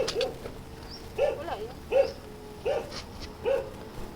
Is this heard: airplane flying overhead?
no